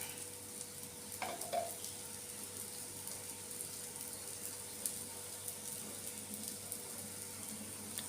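Dosa batter roasting in oil on a hot pan, hotel-style crispy dosa, with a steady soft sizzle and crackle running throughout, fairly quiet and close, with a few brief clinks of utensils near the start.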